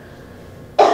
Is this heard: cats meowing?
no